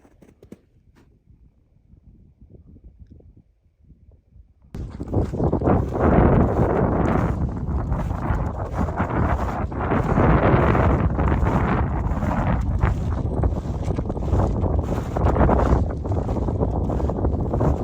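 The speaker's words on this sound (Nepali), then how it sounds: "एकदम हावा चलिरहेको।" Strong wind at the Makalu Base Camp viewpoint, around 5,500 m in the Himalaya, starts faint then abruptly roars loudly against the microphone, a dense buffeting gusting rush that continues to the end.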